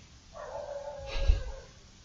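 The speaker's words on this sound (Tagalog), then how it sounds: "Rinig kaya yung tahol ng aso?" A single drawn-out dog bark or howl sounds faintly from a distance, rising and fading over about a second with low rumbling beneath.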